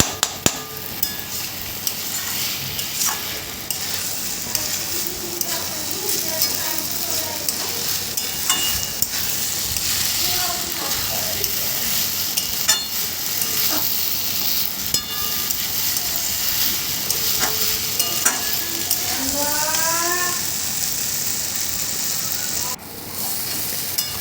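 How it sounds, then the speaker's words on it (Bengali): Gobindobhog rice is turned with spices in a frying pan, giving a steady sizzle broken by repeated scraping stirs and light clinks of the utensil, with faint talk at times. "এই মশলার সাথে প্রায় দু মিনিট ধরে সুন্দরভাবে নাড়াচাড়া করে নেবো যাতে সুগন্ধটা বেড়ে আসে এবং ভাজা ভাজা হয়ে যায়"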